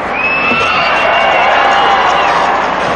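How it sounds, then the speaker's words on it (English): Arena crowd at the 1991 men's team gymnastics world championships roaring and cheering after a release move on the high bar, a loud sustained wash of voices with whoops throughout. "The crowd loves it."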